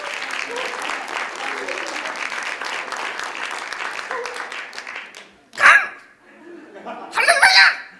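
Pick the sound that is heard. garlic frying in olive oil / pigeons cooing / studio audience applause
studio audience applause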